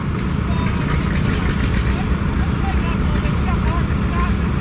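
A vintage tractor engine idles at a tractor pull at a vintage farming days event, a steady low rumble that runs throughout under outdoor crowd noise and voices.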